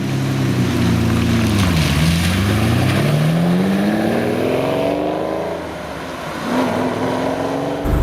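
A Lamborghini Countach engine while driving, loud and close, with revs sweeping down then climbing steadily through a gear, easing briefly before rising again, with no voices.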